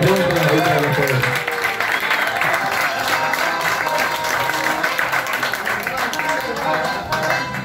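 Guests at a 40th birthday party clapping for the grill cook, a steady dense patter of applause mixed with voices and musical tones, loud and close throughout.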